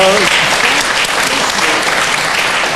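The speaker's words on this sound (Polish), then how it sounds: "A to było oklaski" Studio audience applause on a Polish television talk show, a dense, steady wash of clapping that fills the whole stretch loudly, with a brief voice audible at the very start.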